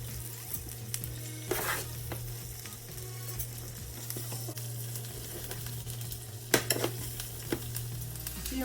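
Rice fries in oil in a pan, giving a continuous close sizzle with a low hum underneath and a few sharp stirring scrapes, no voices.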